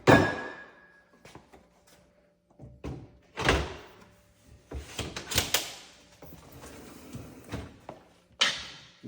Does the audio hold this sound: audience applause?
no